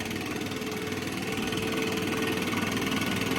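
A small trimmer or blower engine that started on the second pull runs at a steady idle, a continuous close mechanical drone with even vibration throughout and no voices.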